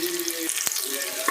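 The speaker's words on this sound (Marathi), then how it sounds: "त्यामध्ये मोहरी घालून घेणार आहोत, त्यानंतर जिरं, त्यानंतर कांदा," Chillies frying in hot oil with mustard seeds, cumin and onion for a quick veg pulao, giving a continuous close sizzle with a few faint stirring clinks.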